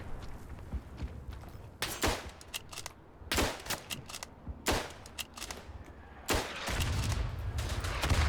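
Artillery and gunfire in the World War I shooter game Verdun: several sharp, loud blasts spaced a second or two apart, then a heavier rumbling burst near the end over a low background din.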